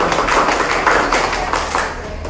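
A classroom full of people breaks into loud, dense applause, a steady burst of many hands clapping together.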